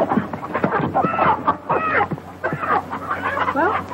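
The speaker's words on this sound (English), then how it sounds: "Oh, he can't hurt them chickens." Chickens cluck and squawk close by in a farmyard, a busy run of short overlapping calls with uneven rhythm.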